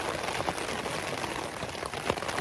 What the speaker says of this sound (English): I'm very happy to hear the rains fall